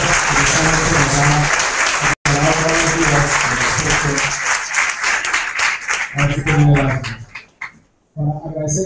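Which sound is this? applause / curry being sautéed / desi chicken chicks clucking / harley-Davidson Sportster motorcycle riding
applause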